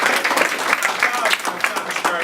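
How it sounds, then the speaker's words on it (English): Audience applause at a talk on jobs and work opportunities after prison, brisk dense clapping from many hands that stays loud across the short stretch, with possible voices mixed in. "I think that deserves a round of applause."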